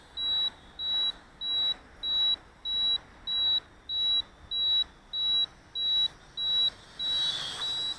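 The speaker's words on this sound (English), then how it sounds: "Kind of annoying when the transmitter beeps the whole time" A Sky Viper V950HD drone transmitter gives off a steady series of high, shrill beeps, about twelve evenly spaced pulses, each lasting around half a second, repeating over a faint background hiss.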